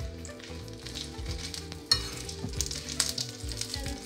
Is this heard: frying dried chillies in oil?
yes